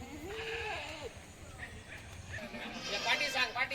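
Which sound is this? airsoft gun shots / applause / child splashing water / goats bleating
goats bleating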